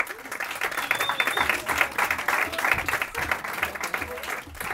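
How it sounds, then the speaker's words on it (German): A late-night show studio audience breaks into dense, sustained applause, a steady wash of many hands clapping that holds at full strength throughout. "Es gibt doch nichts Besseres als einen überbrandenden Applaus von Leuten, die nicht wissen, dass sie klatschen sollen."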